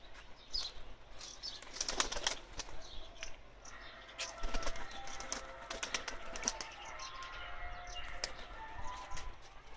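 Pigeons, including a golden pigeon and its chick, flap their wings in quick bursts close by, with light clattering flutters and faint chirps over a quiet background.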